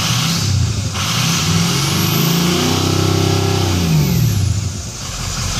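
A 6.0 diesel truck engine with a power problem, revved in park. The pitch climbs, holds and falls back in one loud, close rev, with a high whine riding over the rumble.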